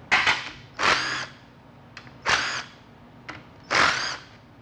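Short bursts of an impact or power tool loosen a 13 mm bolt on the detent linkage of a TH350 automatic transmission. Three strong bursts alternate with two brief clicks, close and loud, with no talk.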